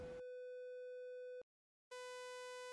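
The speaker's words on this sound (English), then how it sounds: "And this is a saw" Bright, rasping sawtooth-wave test tone generated in the ocenaudio audio editor. It comes in near the end after a smoother steady tone and a half-second silence, loud and unwavering, with no voices.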